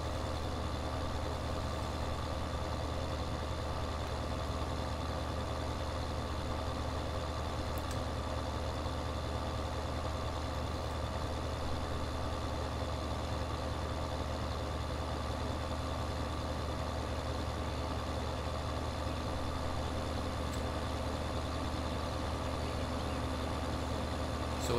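A tractor engine idles in Farming Simulator 2013, a steady low mechanical hum and drone that holds constant and unchanging for the whole stretch, with no talk over it.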